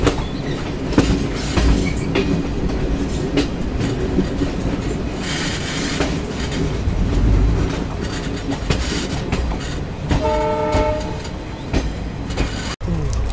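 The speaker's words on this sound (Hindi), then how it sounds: "और आज अपनी ट्रेन में लगा हुआ है डीजल लोकोमोटिव" A diesel locomotive hauls an express passenger train between Saharsa and Sealdah: a loud continuous rumble with rhythmic clickety-clack of wheels over rail joints.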